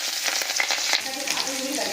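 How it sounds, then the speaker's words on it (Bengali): Fish roe frying lightly in hot oil after potatoes, a loud close crackling sizzle with bursts of popping spatter throughout. "গরম তেলের মধ্যে কেটে রাখা মাছের ডিমগুলোকে দিয়ে একটু হালকা ভাজা করে নেব।"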